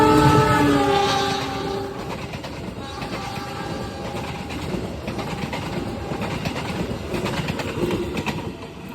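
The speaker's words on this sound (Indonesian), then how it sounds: "Ini keretanya pakai CC206. Sepertinya ini komuter Supas ini." A CC206 locomotive hauls the Supas commuter train from Pasuruan toward Surabaya Kota. A horn blast opens the clip, then a steady, fairly close rumble and clatter of the passing train runs to the end.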